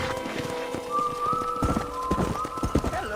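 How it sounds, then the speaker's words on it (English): Horse hooves clip-clop in a steady rhythm as a horse is ridden in an open-world Western video game, with a whinny-like tone and background game music, fairly close and moderately loud. "Horse riding is your main transportation, and you'll bond with your horse over time to improve its stats and responsiveness."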